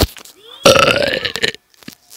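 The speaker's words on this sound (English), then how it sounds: "We got the gamer burp" A single loud, close burp rasps for about a second, then stops, leaving near silence.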